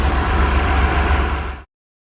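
A 2004 Mitsubishi Pajero GDI engine runs at a steady idle during an engine performance diagnosis, a loud continuous mechanical drone close by that cuts off abruptly near the end.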